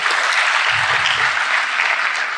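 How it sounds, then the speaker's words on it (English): A crowd gives a steady, loud round of applause at a skills academy graduation ceremony, the dense clapping filling the whole stretch without pause or voices. "Can we give a big round of applause,"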